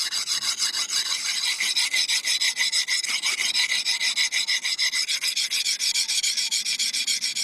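A hand-forged camp knife blade is worked back and forth across a sharpening stone, producing a steady, close, continuous rhythmic rasping scrape that repeats evenly throughout with no voices.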